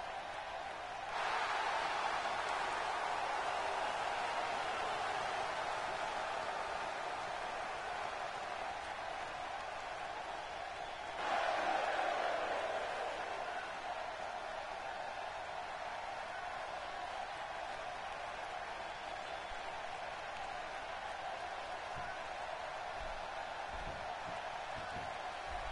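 A steady, fairly faint arena crowd roar from WWE 2K16 wrestling, a broad wash of cheering that swells twice, near the start and again around the middle, then carries on evenly.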